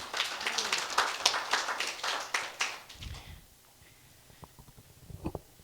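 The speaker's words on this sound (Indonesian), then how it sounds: "Beri tepuk tangan dulu buat Tuhan." A church congregation claps together in a burst of applause for a few seconds, then it thins to scattered claps and taps in a quieter room.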